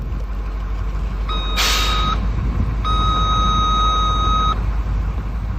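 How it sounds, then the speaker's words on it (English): Battery-operated voltage tester beeping loudly when its test button is pressed, two steady electronic tones of about one and two seconds separated by a short pause, over constant background hum. "If the tester sounds, the battery is in good condition and the tester can be used."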